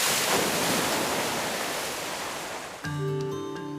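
Waves from a 300 m long wave flume channel built to form waves up to 4.5 m high: a steady, loud rushing surge like surf. It cuts near the end to sustained tonal sounds.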